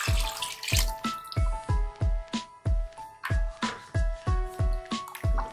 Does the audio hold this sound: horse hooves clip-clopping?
no